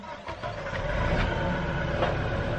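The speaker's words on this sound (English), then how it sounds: "And he has to start the tractor when I'm talking." A tractor engine starts and keeps running with a steady, loud mechanical rumble and clatter that fills the whole stretch, with no voices over it.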